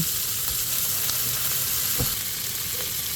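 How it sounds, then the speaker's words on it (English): Shrimp fry in a pan with a little bacon drippings and olive oil, producing a constant, even sizzle and hiss up close with a few faint utensil taps and no voices. "I like to use just a little of the bacon drippings along with olive oil to cook the shrimps."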